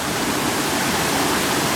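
A mountain stream in the Chartreuse, crossed on a hike, rushes in a loud, steady wash of flowing water close by, with no other sounds.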